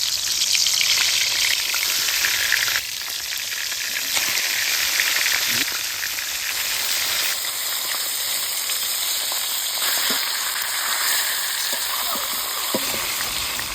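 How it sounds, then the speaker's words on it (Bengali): Fish heads fry whole in pure mustard oil in a wok, giving a loud, continuous sizzle and hiss with occasional stirring clatter, steady throughout. "মাছের মাথাগুলা একে একে ভালো করে ভাজি নিব।"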